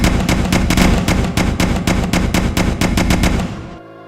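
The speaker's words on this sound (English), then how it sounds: "no image is more famous than Bette Davis pumping bullets into her faithless lover" Rapid bursts of gunfire from a film scene, a woman pumping bullets into her faithless lover, crack out loud and close in a quick volley of a dozen or more shots before cutting to silence.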